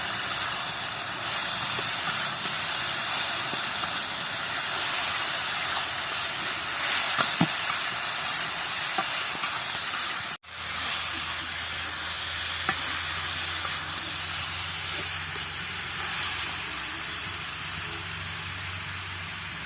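Kohlrabi and jujube chutney fries with salt and turmeric in a constant, moderately loud sizzle and hiss, with occasional stirring clinks and a brief cut partway through.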